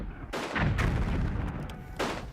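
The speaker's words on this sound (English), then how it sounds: "Enemy keep up heavy gunfire, and the aim is very accurate." Heavy enemy gunfire and shellfire in First World War trench warfare: a continuous loud barrage of booming blasts and crackling shots, with sharp new bursts rising over a dense rumbling roar.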